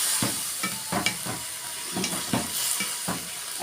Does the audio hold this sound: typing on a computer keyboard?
no